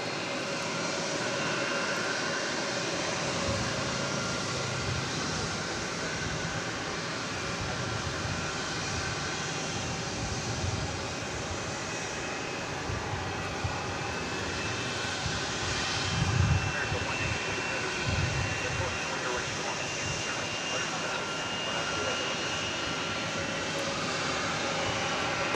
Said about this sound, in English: 2770 going to Houston Intercontinental, an Airbus A300